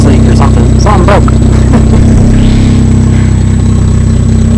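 A car with a straight-pipe exhaust revs loudly up close, its engine note rising and falling in raspy bursts before settling to a rough idle, with some voices mixed in.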